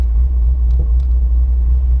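Untuned Chevrolet Corvette C5 Z06 engine running with a loud, steady low rumble, a few faint pops breaking through near the car, no talk.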